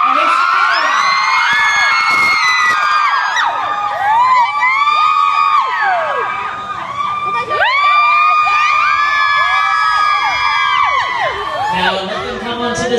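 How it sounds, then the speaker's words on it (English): A large crowd of fans screams and cheers continuously at a Twilight cast event in New York City, with many high-pitched shrieks rising and falling, loud and sustained, briefly dipping before surging again. "Wait, I hear screams."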